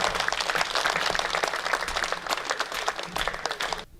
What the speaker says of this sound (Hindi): सर्वाधिक तालियां एक बार हाथ खड़े करके बजाइएगा अनिल चौबे जी के लिए